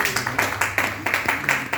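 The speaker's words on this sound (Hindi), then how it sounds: "इनके लिए एक बार जोरदार ताली हो जाए" Audience at a Star Ayurved network meeting in Gorakhpur clapping in a steady rhythmic pattern, sharp regular claps repeating about every quarter second at moderate loudness.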